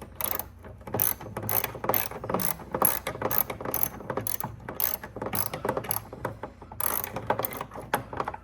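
Ratcheting socket wrench clicking in quick bursts while loosening a headlight part on a Ford Fusion, close and fairly loud, with brief pauses between strokes and no talk.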